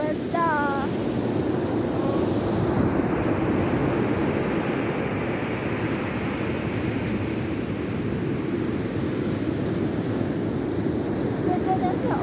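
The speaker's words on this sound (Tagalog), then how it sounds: "Oh, may dagat pala ang La Union." Sea waves wash steadily onto the beach at La Union, a broad continuous roar mixed with wind buffeting, with brief voices at the start and end.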